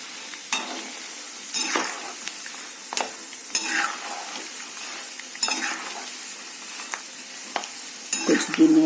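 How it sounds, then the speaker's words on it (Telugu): Peanuts frying for masala peanuts, stirred in a pan with a soft background sizzle broken by repeated sharp scraping and clattering strokes of the spoon, close and fairly loud, no voices. "కొంచెం వేరుశనగ పప్పులు వేగాలి."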